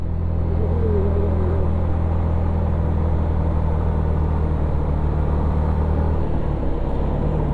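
Vehicles grind slowly up a very steep hill road to Sajek, a loud low engine drone and rumble held steady at close range with a brief rising whine, and no speech.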